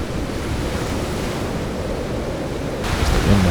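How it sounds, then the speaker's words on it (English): Steady roar of wind and crashing ocean surf used as layered ambient sound effects, a dense continuous wash that swells slightly louder toward the end, with no voices. "There's the wind noise"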